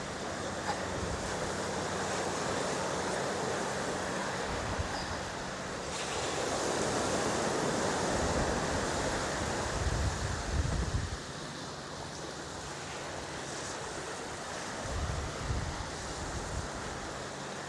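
Ocean waves roll onto a sunny beach on Railay Island in Krabi, Thailand, a continuous broad surf wash with gusty wind buffeting the microphone and swells of louder breaking water, no voices.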